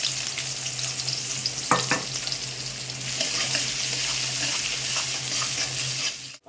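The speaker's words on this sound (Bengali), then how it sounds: "এবার পেঁয়াজটা দিয়ে দেবো।" Onion sizzles and fries steadily in a pan for palak egg curry, a loud continuous crackling hiss with a few stirring knocks close by.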